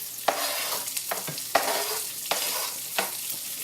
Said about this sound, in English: You have a nice sizzle.